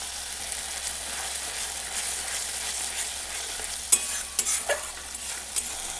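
Spice paste for fish in mustard-poppy sauce sizzles steadily in a pan, with a constant frying hiss and a few scraping stirs of the spatula near the end.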